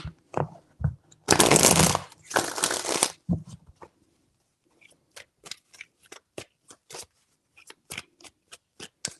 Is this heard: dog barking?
no